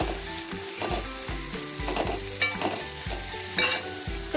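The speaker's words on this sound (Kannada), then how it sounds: "ಈರುಳ್ಳಿ, ಬೆಳ್ಳುಳ್ಳಿ, ಹಸಿಮೆಣಸಿನ್ಕಾಯಿ, ಕರಿಬೇವು, ಕೊಬ್ಬರಿ ಎಲ್ಲ ಹಾಕಿ ಚೆನ್ನಾಗಿ ಬಾಡಿಸ್ಕೊಳ್ಳೋದು" Okra sautés in a pan with onion, garlic, green chilli, curry leaves, coconut and mustard seeds in oil, sizzling continuously while a spoon scrapes and stirs in repeated close strokes.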